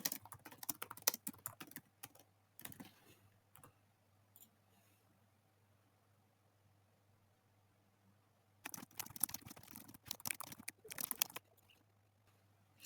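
Keyboard typing in quick irregular bursts at the start and again near the end, with a quiet pause between, close and fairly soft, no talk.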